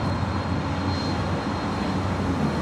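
An MD-11 airliner at LAX gives off a steady, broad engine roar that holds at an even level from start to end, with a faint high whine on top and no one talking.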